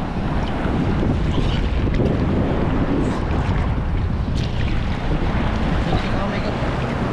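Big sea waves and strong wind surround a small fishing boat at sea, producing a loud, constant roar of wind buffeting the microphone over rushing water.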